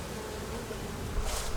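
Honeybees at a neglected hive in a farm bee yard drone in a steady, dense buzz close by, rising slightly louder near the end, with no talking.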